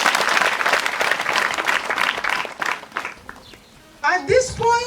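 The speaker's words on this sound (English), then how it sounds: "Let's clap for the Board of Governors." An audience claps for a school's Board of Governors, a close, dense burst of applause that thins out over a few seconds before a voice takes over.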